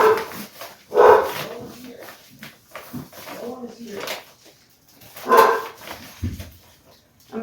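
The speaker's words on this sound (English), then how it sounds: "our dog's barking for some reason" A dog barks from inside a house during a conversation, with several loud single barks at irregular intervals mixed in with ongoing talk.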